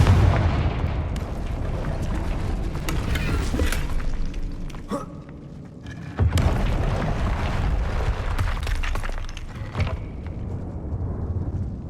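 A Confringo fire spell explosion in Hogwarts Legacy rumbles under sustained booming, sharp cracks and shattering bursts. A fresh loud blast lands near the midpoint, and the combat din carries on to the end.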